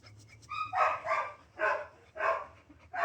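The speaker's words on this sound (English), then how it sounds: "Just like the one that's barking right now." A dog barks several times in a steady series of sharp, mid-distance barks, with a faint whine before the first.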